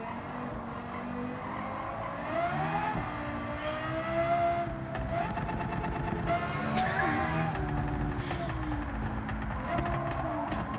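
Lexus LFA engine in the racing game Gran Turismo 7 revs hard and continuously, the pitch climbing and dropping through gear changes with bursts of tire squeal, loud and close for about eleven seconds.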